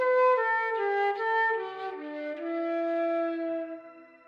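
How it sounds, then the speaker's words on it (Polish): A flute plays a slow melody of clear, sustained tones that step gradually downward, heard alone and close, with the last note fading out. "To flet."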